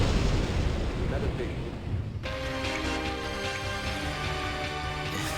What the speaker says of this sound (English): Another epic explosion.